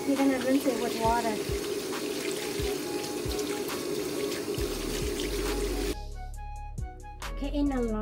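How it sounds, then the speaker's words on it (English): Tap water runs steadily over crawfish in a sink for about six seconds, a continuous splashing rush, then stops; someone talks over and after it. "And then you're gonna rinse it with water."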